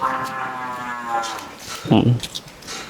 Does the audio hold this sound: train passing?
no